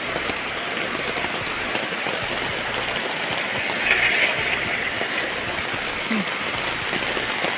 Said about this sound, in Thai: น้ำไหลทางค่ะ น้ำไหลแรงมากเลยค่ะ